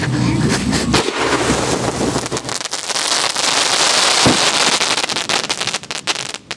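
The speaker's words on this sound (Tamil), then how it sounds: "ஸ்கை ஷாட் கூட சேர்ந்து என்னென்னமோ போனிச்சு. அங்கே போய் படப்படன்னு சீர்ந்துச்சு." A sky shot firework bursting inside a silver pot gives sharp, loud cracks and booms with crackling bursts over gusty wind noise, several distinct bangs spread across the stretch.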